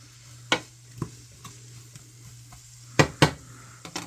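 Cabbage fries in a pan with a faint sizzle, punctuated by several sharp utensil scrapes and clacks against the pan, close and intermittent with brief pauses.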